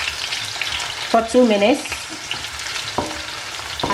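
Onions frying in a pan for a Ghanaian red snapper stew, a steady close sizzle with brief stirring clatter mid-clip and a few words spoken over it.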